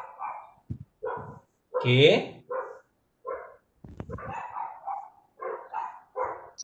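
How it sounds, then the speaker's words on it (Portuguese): A dog barking out on the street, several sharp barks and yelps spread across the clip, mixed with people talking nearby. "Da onde esse cachorro? Sei lá, daqui de casa, Ah, é, daqui da rua."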